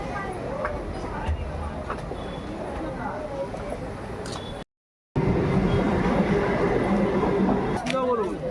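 A train pulls away from a station platform with a rumbling, rattling roar, wheels clacking and screeching under loud crowd chatter; the sound cuts out briefly midway, then the rumble and voices return.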